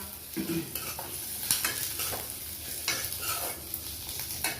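Sesame seeds and tamarind sautéed in a pan for sesame chutney, a steady soft sizzle under repeated scraping stirs of a spatula, close and moderately quiet.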